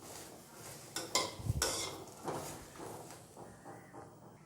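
Lengthwise-cut okra being dry-sautéed in a pan with no oil, with a few sharp metal clinks of a spoon against the pan followed by softer scraping and stirring.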